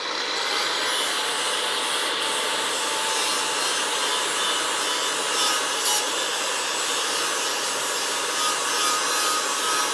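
Black electro-coated primer is lightly stripped to bare metal on a Crew Cab Charger rear crossmember, a steady abrasive grinding whir running unbroken and close throughout.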